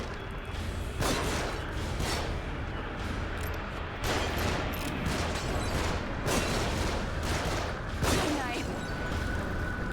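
Gunfire from enemies shooting down from above in the survival horror game The Evil Within, a dense, continuous barrage of shots with heavier bursts recurring every couple of seconds, loud and close, with speech over it.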